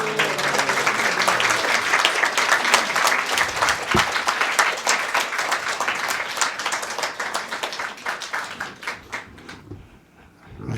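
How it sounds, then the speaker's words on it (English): An audience claps after an evening spiritual talk, a steady crowd applause with individual claps audible that thins and fades toward the end. "your clapping sounds like sleeping people."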